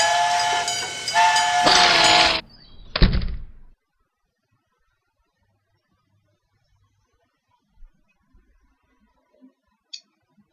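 A train sound effect with a steam-style whistle and hiss plays during a Netrunner card game, loud for a few seconds before cutting off, followed by near silence with a few faint clicks.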